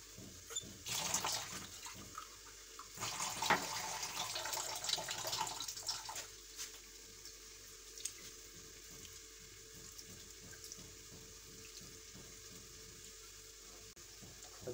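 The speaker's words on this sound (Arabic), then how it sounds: "نزيد شويه ديال الماء، الكاس عندي صغير." Water poured from a small glass onto couscous, a splashing trickle in a few bursts over the first several seconds, then a quieter background sizzle of frying chicken nearby.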